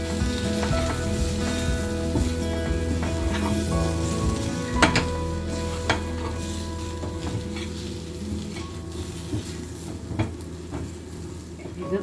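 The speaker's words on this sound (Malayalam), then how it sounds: "ഈ കൂട്ട് നന്നായിട്ടൊന്ന് മിക്സ് ചെയ്തിട്ട് ഒന്ന് ചൂടാക്കി മൊരിയിച്ചെടുക്കാം." Potato roast with spices frying in a pan, a loud close sizzle with scraping stir strokes and occasional clanks of a utensil against the pan, gradually easing toward the end.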